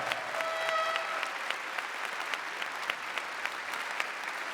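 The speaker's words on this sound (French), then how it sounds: "ça mérite des applaudissements" An audience at an outdoor archery gold final, a men's compound match, applauds in a steady wash of clapping that holds evenly throughout, mid-distance and moderately loud.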